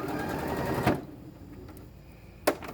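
Close sewing machine whirring steadily while stitching kitten quilt panels together, then stopping abruptly, leaving quiet room sound before a brief sharp tap near the end.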